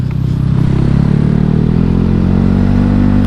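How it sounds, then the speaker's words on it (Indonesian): Loud, low Honda Scoopy motor scooter exhaust rumble while riding, a steady throaty drone with slight rising revs, close up. "suara knalpotnya enak banget loh, asli."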